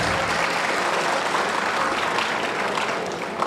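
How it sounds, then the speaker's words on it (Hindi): An audience applauds to welcome performers before a stage drama in Prayagraj, a thick, even wash of clapping that holds steady and fades slightly at the end. "आप उनका जोरदार तालियों से स्वागत करें।"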